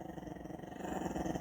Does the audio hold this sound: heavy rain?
no